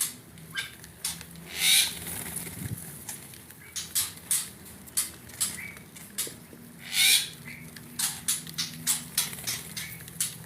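Birds in an aviary during feeding, with repeated short chirps and squawks, scattered flutters and light pattering, fairly quiet and close, coming in irregular bursts without any talking.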